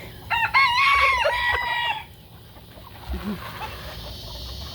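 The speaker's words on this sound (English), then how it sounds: "roosters everywhere." A rooster crows loudly and nearby on a backyard farm, followed by quieter scattered hen clucks over faint outdoor background.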